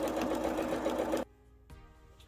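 A sewing machine stitching side seam pockets into a garment, a fast steady mechanical whir for about a second that cuts off abruptly, then near-silence with a faint clunk.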